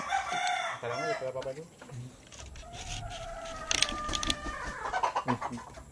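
Chickens on a farm, with a rooster crowing and hens clucking nearby, in several loud calls that overlap and trail off, plus some faint background noise.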